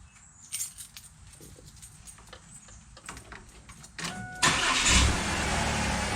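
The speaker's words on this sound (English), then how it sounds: "the valves are making noise again every time it starts up cold in the morning" Faint clicks and small rattles give way to a car engine cranking and catching on a cold morning start, then settling into a loud, noisy idle with a ticking undertone from noisy valves.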